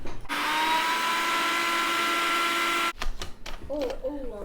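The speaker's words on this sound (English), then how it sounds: "I'm going to blend this with a dry mill" Dry mill grinder blending ingredients for a Rivers native soup, a loud steady high-pitched motor whine for about three seconds that cuts off abruptly, followed by a voice talking.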